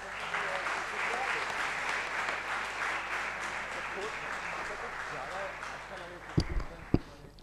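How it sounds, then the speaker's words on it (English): Audience at a student investment course finale applauds a class representative being welcomed, sustained even clapping that fades slightly before a couple of sharp knocks near the end. "Please welcome her with a huge round of applause"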